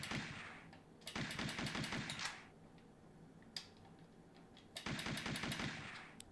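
Rapid machine-gun fire in a retro video game comes in three bursts of fast, even shots separated by pauses and a couple of single clicks, fairly quiet overall.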